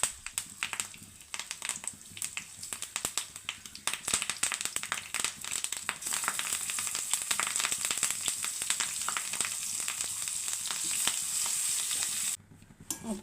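Curry leaves and dried fish (unakka vaala, a dried ribbonfish) frying in hot oil in a pan, with a dense, continuous sizzle and crackle that grows louder and brighter partway through, close by, plus occasional stirring clatter.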